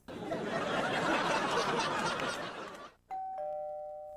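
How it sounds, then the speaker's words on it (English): A two-tone ding-dong doorbell chime in a cartoon rings out clearly after a few seconds of crowd laughter and chatter. "Hey, Bryce, that's the doorbell."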